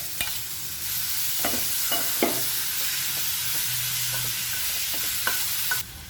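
Spice powders and mango pieces are stirred in a hot pan for an instant Kerala sadya mango pickle, under a soft continuous sizzle broken by repeated scraping strokes and light taps of a spoon.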